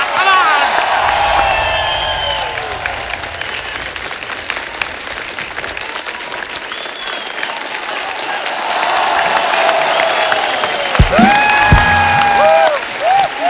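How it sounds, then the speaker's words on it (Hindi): A studio audience on a TV comedy show applauding celebrity guests, loud sustained clapping and cheering with occasional whoops, while a host's amplified voice talks over it. "जोरदार तालियां हो जाए हमारे मेहमानों के लिए।"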